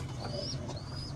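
Domestic pigeons kept for a pigeon-flying contest coo in a low, steady, continuous murmur close by, with a few thin, high bird chirps drifting above it and no talking.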